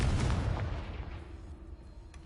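Confringo blasting spell going off in the Hogwarts Legacy video game: a loud, rumbling low boom that swells at the start and slowly decays into a fading tail.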